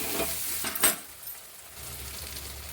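Oil is poured into a pan of Kashmiri mutton preparation and sizzles hard in a few quick bursts, then settles into a softer, steady frying hiss.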